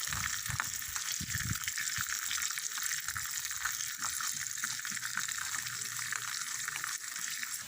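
Onions sautéing in a pan make a soft, steady sizzle, with low scraping and clattering stir sounds near the start.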